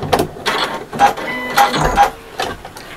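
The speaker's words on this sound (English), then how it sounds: "Nice little reverse stitch just to hold." A sewing machine runs a short reverse stitch on a fabric bag, with brief mechanical whirring bursts and clicks starting and stopping close by.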